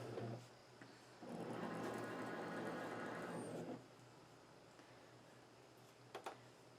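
Cricut machine cutting a sticker sheet on light cardstock: a low mechanical hum that swells into a steady whirring drive for a couple of seconds, then drops back to quiet with a couple of small clicks near the end.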